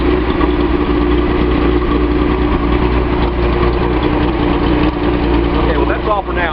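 A Datsun 280Z with an L28 inline-six, recently treated for a misfire, idles loudly and steadily at close range with an even hum throughout.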